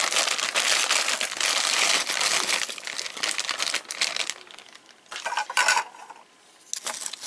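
Frozen broccoli florets tumble from a crinkly plastic bag into a slow cooker, a loud rattling, rustling pour that thins out into a few scattered clatters and bag crinkles near the end.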